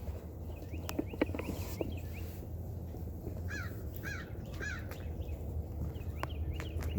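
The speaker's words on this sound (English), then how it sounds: "It's nice to hear some birds." Birds call and chirp outdoors on a cold morning with patches of melting snow, several short bright calls repeating on and off over a steady low background rumble.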